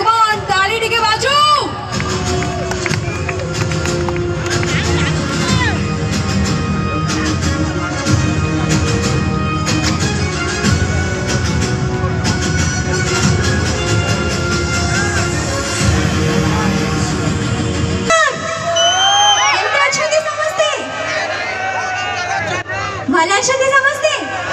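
A large crowd at the Dalatola Mahotsav 2024 festival stage cheers and shouts for an Odia singer, a loud sustained roar with whoops that suddenly drops off near the end.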